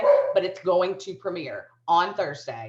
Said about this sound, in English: you're gonna hear my dog.